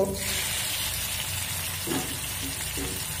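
Prawns rubbed with salt and turmeric hit a pan of frying onions, setting off a loud, continuous sizzle with bursts of crackle and a few stirring scrapes close by.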